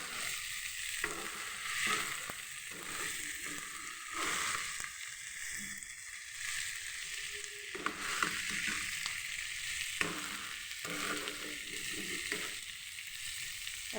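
Sardines wrapped in banana leaf fry in a pan with a steady, crackling sizzle and scattered pops, heard up close with no voices.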